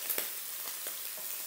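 A steady, close sizzle of chicken liver and gizzard frying in coconut oil, broken by a few soft pops and stirring movements.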